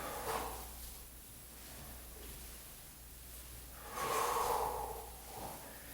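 An exhale during a rolling-back yoga exercise for jiu jitsu, heard as a soft, close breath and then a louder, fuller breath out near the end, over faint room noise.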